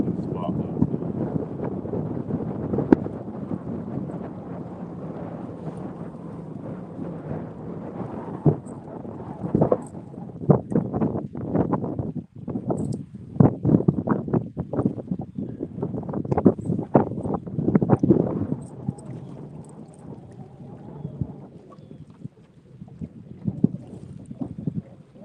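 Wind buffets a boat on the Tennessee River on a cold day, a constant low rumbling roar with gusty bursts against the microphone, loud and close throughout, with no other distinct sounds.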